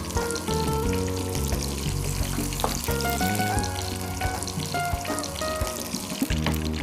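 Peeled, round-sliced lemons frying in oil in a kitchen, a steady dense sizzle running throughout with clinks of utensils and brief tonal sounds over it, fairly loud and close.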